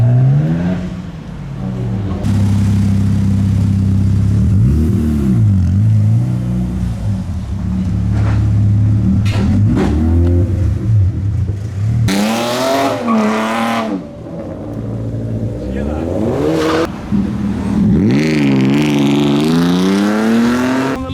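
A Mazda RX-7 rotary engine revs hard at an outdoor car meet, loud rising and falling sweeps with sharp throttle blips and sustained high-rpm howls, close by and dominating over background noise.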